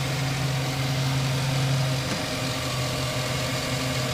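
A 2009 Chevy Silverado 1500 Z71 with a 5.3 liter V8 idles steadily with a low, even rumble and slight vibration, heard up close with the hood open.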